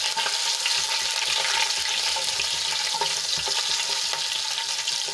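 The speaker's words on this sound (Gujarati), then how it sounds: "હવે આપણે અડધી મિનિટ માટે સાંતળી લઈશું" Chopped mild green chili sautés in a hot pan with a steady, bright sizzle and crackle, close and continuous, with occasional stirring scrapes and no voices.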